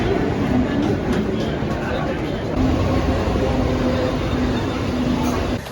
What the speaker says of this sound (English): I'm heading to Dadar railway station to catch a local train